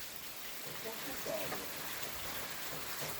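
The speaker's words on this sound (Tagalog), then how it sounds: "Ulan pa rin hanggang ngayon." Heavy rain falls outdoors as a steady, even hiss of drops on surfaces, fairly faint and continuous throughout, with possible soft voices in the background.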